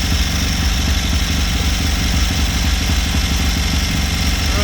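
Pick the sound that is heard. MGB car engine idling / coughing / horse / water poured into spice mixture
MGB car engine idling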